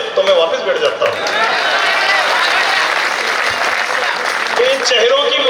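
Crowd applause at a Hindi comic poetry recital (kavi sammelan): loud, dense clapping fills the hall, with a performer's voice and some chatter heard over it at the start and end.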